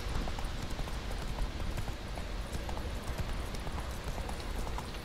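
In Witcher 3, the horse Roach gallops with a steady, rapid clip-clop of hooves that stays close and constant throughout, with no talking.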